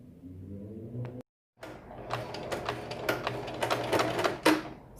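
A home sewing machine stitching the hem of a fabric dish towel, with steady mechanical whirring in short runs broken by a brief pause, close and fairly loud.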